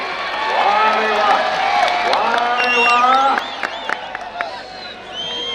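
A large crowd at a wrestling bout in Kolhapur cheers, whoops and whistles loudly and continuously, with shouting voices mixed through the roar and a brief dip before the noise rises again.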